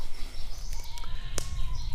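Faint bird calls and chirps drift through a low outdoor rumble, with a few brief sharp notes standing out.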